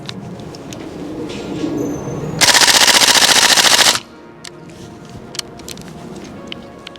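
Tokyo Marui airsoft gun firing a rapid full-auto burst of about a second and a half, loud and close, with quiet outdoor ambience and faint birds before and after.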